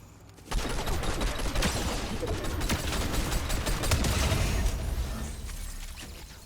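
Rapid bursts of video-game gunfire from toy-like pew pew guns in a Fortnite match, crackling loudly and continuously across the whole stretch with dense overlapping shots.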